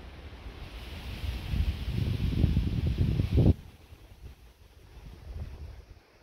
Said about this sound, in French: Le vent là il va de tous les côtés.